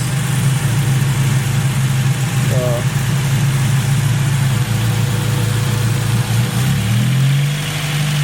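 A car with a newly installed exhaust and header idles steadily and loudly up close, a continuous low rumble with a brief pitch shift near the end.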